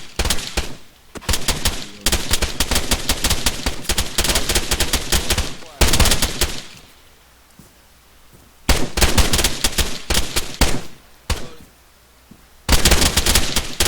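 Gunfire crackles during a team shooting training drill: dense bursts of rapid shots at close range, separated by brief quiet gaps, loud and repeated across the clip.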